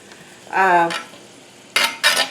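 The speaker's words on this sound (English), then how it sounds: "now that we have our onions sliced up, we're going to put them in our butter. And we are going to saute these" Sliced onions go into melted butter in a pan, giving a short stirring scrape followed by two bursts of sizzling as they begin to sauté.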